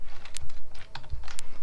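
A computer keyboard with a UK layout on a Windows 8.1 PC is typed on quickly and closely, with a dense run of crisp key clicks and a few sharper taps standing out.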